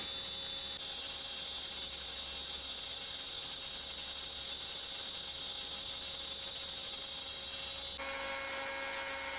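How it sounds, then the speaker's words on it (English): DIY CNC machine milling a large block of aluminium with a Crest end mill, a steady high-pitched whine and cutting hiss, constant and fairly quiet, with a slight change in tone near the end and no voices. "just look at the size of this lump of aluminium that a Crest is cutting out on a DIY"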